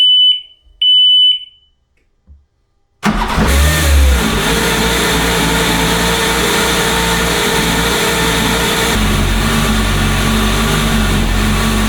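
A Kawasaki Ultra 310 jet ski engine fires up after a few short electronic beeps, then runs loudly and steadily at idle close by, with a brief rev near the start and a slight drop in pitch partway through.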